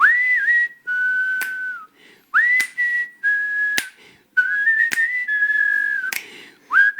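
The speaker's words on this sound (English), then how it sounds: "Maybe I shouldn't whistle." A person whistles a melody alone, clear sustained notes in short phrases with brief pauses and a few sharp clicks between them.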